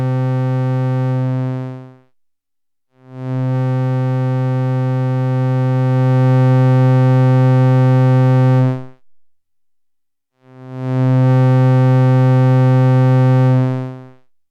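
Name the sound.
synth oscillator from envelope generator triggered at audio rate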